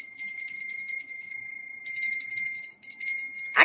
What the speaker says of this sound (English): ring the bell a couple more times before you continue.